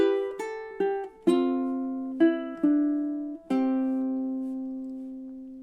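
A ukulele plays a short melodic phrase of about seven plucked notes at a moderate, uneven rhythm. The last note rings out and decays, the playing is close and clear, and no voice is heard.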